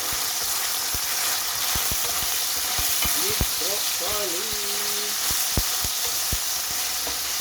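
Steady, dense sizzle of beef stir-frying in a hot pan, with scattered sharp clicks and scrapes of a utensil against metal.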